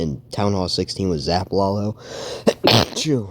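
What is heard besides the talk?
sneeze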